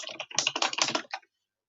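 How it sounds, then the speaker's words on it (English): A name being typed on a computer keyboard, a rapid, dense run of close, crisp key clicks lasting about a second before stopping into silence. "So once you type in your name, I need you to go format."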